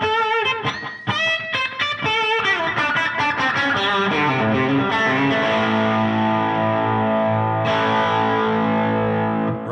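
An electric guitar plays distorted picked notes and ringing chords through a slapback delay set to a single quick repeat, bright and close, with no talking.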